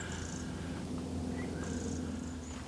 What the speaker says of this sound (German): Und die Katzen dabei.